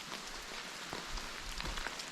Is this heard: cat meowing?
no